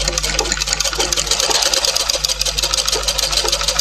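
A sewing machine stitches the side seam of a garment in a tailoring class, running loud and close in a fast continuous mechanical whir with a steady rapid needle rhythm and a low motor hum underneath.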